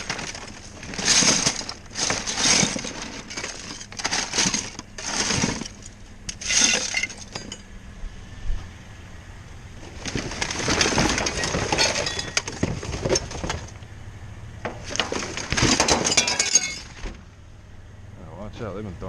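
Crunching and clinking of broken glass being stepped on in bursts, with pauses between, fairly close and loud.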